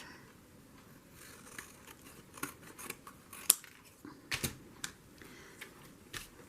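Scissors make a series of quick, crisp snips while trimming overlapping paper edges on a small handmade collage journal, the cuts coming close and irregularly over a quiet background.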